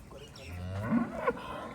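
A Red Friesian cross cow that has just calved lets out a single low, drawn-out moo that rises into a brief higher call, close and fairly quiet against a calm farm background.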